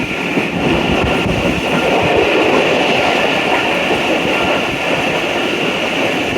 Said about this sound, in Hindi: हल्की हल्की बारिश है, गहरे बादलों का साया है और तेज़गाम एक्सप्रेस का सफ़र जारी है।